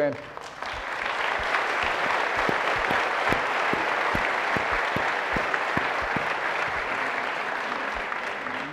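Sustained audience applause fills a hall at an education-themed presentation, steady dense clapping with scattered sharper individual claps running throughout, fairly loud and close, without talk over it.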